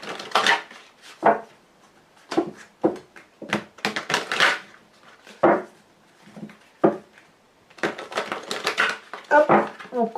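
A deck of Lenormand cards being shuffled and cut by hand, a series of short crisp riffling bursts separated by brief pauses.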